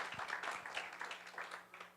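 Applause from a church congregation welcoming a new gentleman visitor during a live service: scattered, moderately faint clapping that rises and falls over two seconds, with a low steady hum underneath.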